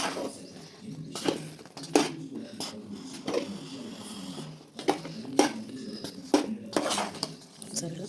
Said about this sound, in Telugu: మొత్తం ఇలా ఒకసారి బాగా కలుపుకోవాలి. గడ్డలు ఎక్కడ ఉందో చితిపేస్తాం.